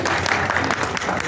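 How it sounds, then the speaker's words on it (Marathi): A crowd at a marathon prize ceremony organised by a sports club applauds loudly and steadily in a dense burst of clapping, with faint voices mixed in. "आपल्या हस्ते सर्वांनी जोरदार टाळ्या त्यांच्यासाठी वाजवायच्या आहेत."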